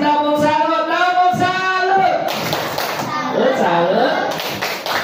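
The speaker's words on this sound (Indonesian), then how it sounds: "kita kasih tepuk salut." A school class of children chants together in unison and claps along in a rhythmic cheer, voices close and loud, with the clapping and tapping growing more prominent toward the end.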